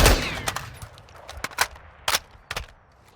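Several loud, sharp single gunshots from a gun fitted with a Delta 4X scope in Modern Warfare 2, spaced irregularly over a few seconds, each with a short echoing tail and no voices over them.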